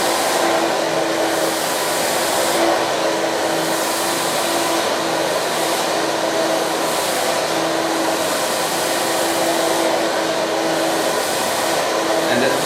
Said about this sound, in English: and then start blow drying for the real thing